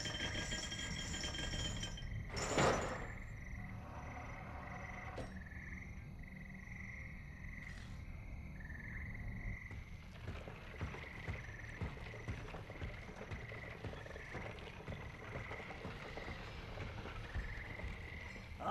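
A frog in the Sly Cooper: Thieves in Time video game croaks again and again in a steady, rhythmic series of short calls against quiet game ambience, preceded by a brief sharp clatter.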